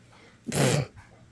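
A single short, gruff bark rings out nearby, a brief burst standing alone against a quiet background.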